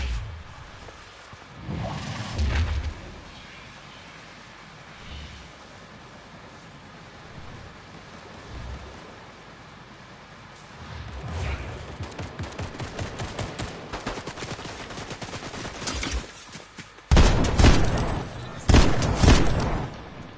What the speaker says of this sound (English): Shots nearby.